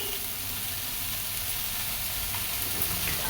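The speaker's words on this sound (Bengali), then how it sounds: "আদা রসুন পেঁয়াজ টমেটো কাঁচা লঙ্কা দিয়েই করবো একসঙ্গে ভেজে নিচ্ছি" Ginger, garlic, onion, tomato and green chilli fry together in a pan, giving a steady, close, even sizzle with no voices.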